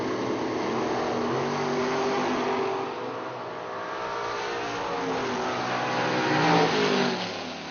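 A 1983 Camaro and a 2001 Firebird launching at a drag racing event, engines revving hard and climbing in pitch, loud and close, easing briefly midway before surging again.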